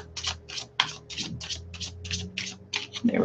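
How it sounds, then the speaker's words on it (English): Tarot cards being shuffled hand over hand, giving a steady series of crisp, close papery riffles at a regular beat, with a low background hum underneath. "I'm doing hand over hand shuffling"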